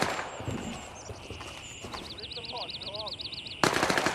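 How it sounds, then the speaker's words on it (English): Enemy gunfire in Gray Zone Warfare, bursts of automatic shots at mid distance mixed with whistling, chirping tones, ending in a sudden loud burst of fire. "they're just shooting at my last known location"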